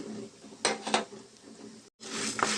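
Cumin and coriander seeds dry-fried in a pan on a low flame make a soft rustling sizzle broken by a couple of clinking stirs and a short cut-off, close and moderate.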